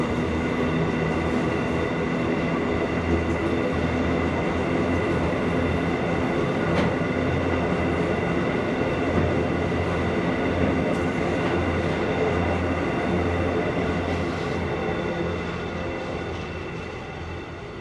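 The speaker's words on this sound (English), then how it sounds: "A Seoul Southern Short-Haul Railroad G-Class unit passes through Maitland Station with cement wagons" A heavy G-Class freight locomotive with cement wagons rumbles steadily past at close range through Maitland Station, a continuous roar of wheels and wagons with faint metallic clanks, easing slightly toward the end.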